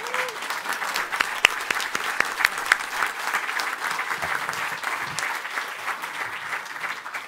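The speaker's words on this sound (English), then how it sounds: "you guys can give him a round of applause" A crowd at a Pratt Paper announcement event in Henderson, Kentucky, breaks into sustained, even applause with a few cheers and whistles over the clapping.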